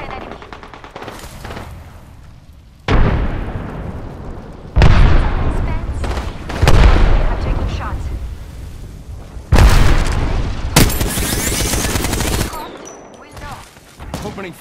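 Frag grenade blasts and gunfire in Apex Legends: heavy booming explosions and rapid bursts of shots arrive in several loud waves, with game voice callouts mixed in.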